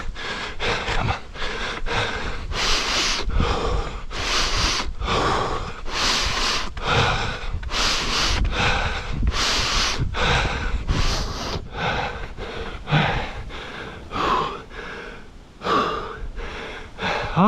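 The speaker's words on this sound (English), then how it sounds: "Breathe. Power. Breathe." Heavy, rhythmic breathing from a runner on a five-mile run in Tokyo: strong gasping inhales and forceful exhales repeating steadily, very close and loud, with no talking over it.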